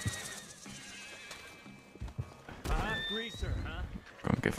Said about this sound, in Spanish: Y aquí está Padre Tiempo, mi caballo favorito.